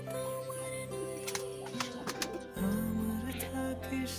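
Racing and breeding pigeons in a loft cooing softly, a few throaty coos that come close together against a steady background hum, faint and near.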